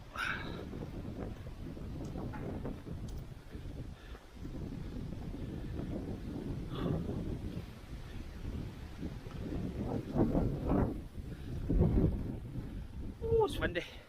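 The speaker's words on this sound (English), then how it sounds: "Oh, it's windy." Strong wind buffets the microphone on an exposed stretch of the West Highland Way trail near Inversnaid, a continuous low rumbling roar with gusts swelling louder toward the end.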